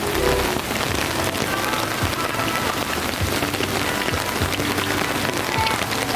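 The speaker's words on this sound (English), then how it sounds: "much to be expected in Florida is rain at any given moment" Rain falls steadily on surfaces at a Florida campsite, a dense, even patter heard close and loud throughout with no voices.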